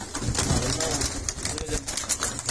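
Pigeons make soft cooing and fluttering sounds close by in a loft in Faisalabad, heard under someone speaking throughout.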